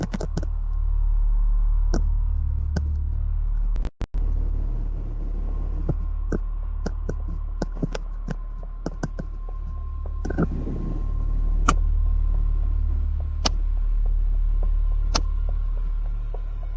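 Car driving steadily with a deep, constant road rumble and engine hum inside the cabin, dotted with scattered faint clicks and a brief dropout partway through.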